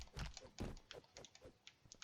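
Computer keyboard keys pressed in steady, quick succession while playing the brawler game Mother Russia Bleeds, a string of close, light tapping clicks with no talking.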